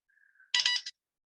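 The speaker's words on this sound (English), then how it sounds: "my phone going off in this video" A cell phone goes off during an exam lecture, a faint thin tone followed by a loud, bright burst of ringtone that lasts about half a second before cutting off, with no talk over it.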